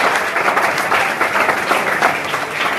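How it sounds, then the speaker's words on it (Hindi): Loud, dense applause from students at a school session in an Uttar Pradesh inter college, steady clapping filling the room for about three seconds with no talk over it. "वेरी गुड, संदीप चौहान के लिए जोरदार ताली।"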